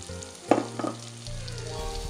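Onion drops into melted butter in a pan and starts to sizzle, with a few clatters of utensils at first and then a steady, close frying hiss that continues to the end; nobody speaks.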